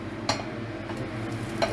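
A green tea pancake sizzles softly in a frying pan. It gives a low, steady hiss, broken by a few light scrapes and taps of a utensil as it is flipped.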